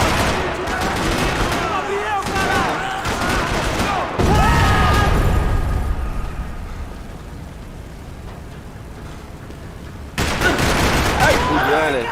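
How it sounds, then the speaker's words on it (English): Video-game gunfire rattles through a parking lot in Max Payne 3: dense bursts of shots, a heavy roaring blast, then a quieter stretch of hiss before sharp firing resumes. "Another parking lot rattling with gunfire."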